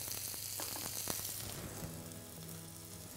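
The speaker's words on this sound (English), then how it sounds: "I'm just going to press it lightly, try and ensure the contact is all over the steak onto the hot pan" A sirloin steak sears in a hot pan with a loud, close, steady sizzle and hiss, punctuated by a few short crackles and taps early on before settling into a constant fry.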